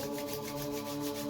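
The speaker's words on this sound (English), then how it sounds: "Rub your palms." Palms rubbed briskly together during a breathing and relaxation exercise, a steady close swishing friction with no pauses or voices.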